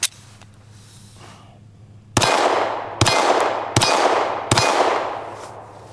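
A Glock 17C Model V pistol fires its last four rounds of a 1,000-round torture test: four loud, close, evenly spaced shots, each ringing out briefly before the next.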